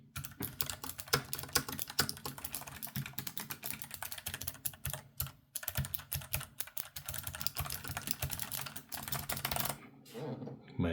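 Fast typing on an ROG Falchion RX low-profile keyboard with clicky blue switches makes a dense, close, continuous rattle of crisp keystrokes that stops briefly near the end before a few more presses.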